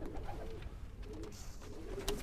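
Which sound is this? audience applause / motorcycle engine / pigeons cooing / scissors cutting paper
pigeons cooing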